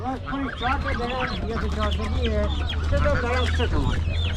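Geese and chickens fill a weekly bird market in Rasht, Gilan, with continuous overlapping clucks, honks and squawks from many birds nearby, a steady low hum beneath, and people talking among the birds.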